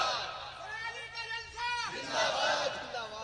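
A crowd at a religious gathering shouts a loud unison response to a slogan, a swelling collective roar that rises and falls over several seconds, with voices and a reverberant hall ambience around it.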